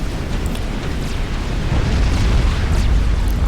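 A torpedo launcher being destroyed in the Supreme Commander Forged Alliance strategy game, heard as a loud, sustained rumbling explosion that fills the whole stretch with dense, noisy booming.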